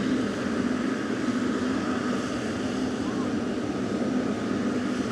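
Ryanair airliner engines run steadily at Manchester Airport, a continuous droning whine with a constant hum beneath.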